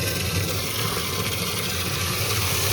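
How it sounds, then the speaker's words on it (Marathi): Fresh water gushes from the pipe of a new borewell motor in a steady, continuous rushing flow, close and even, with no voices. "आता आलं फ्रेश पाणी आहे"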